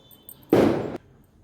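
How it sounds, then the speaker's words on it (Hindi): A single firecracker set off for Diwali bursts nearby, a loud, sharp bang that lingers for about half a second before cutting off into quiet outdoor air. "दिवाली है तो पटाखे तो छूटी रहें, रात हो दिन हो, बच्चे लगातार पटाखों पे लगे हुए हैं।"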